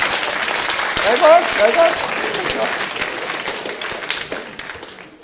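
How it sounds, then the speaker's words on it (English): A burst of applause from a group fills the room, tapering off over a few seconds while a voice speaks briefly over the clapping. "Round of applause for the headmaster of the temple."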